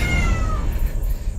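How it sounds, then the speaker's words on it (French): Cat meowing in the video game Castlevania, a single drawn-out meow that slides downward over low rumbling game background, loud and close with no talk over it. "C'est rien, c'était un chat."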